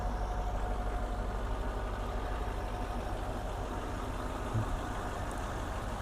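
A Range Rover engine idling steadily, a continuous low rumble that stays even and moderately loud throughout, with no talk.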